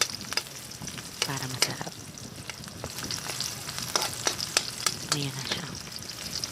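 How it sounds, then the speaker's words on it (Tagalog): Green chili sautés in hot cooking oil for adobong pusit sa kamatis, a steady close sizzle broken by repeated stirring scrapes and clicks, with someone speaking briefly over it. "Gisa-gisa natin siya. Pa-brown natin siya ng konti"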